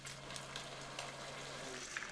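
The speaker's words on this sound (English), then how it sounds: "We're adding the sauce and this is gonna sizzle and smoke and bubble," Tomato-based sauce sizzling and bubbling with pork in a hot pan for asado de puerco, a steady dense frying hiss with a low hum beneath, close and continuous with no talk.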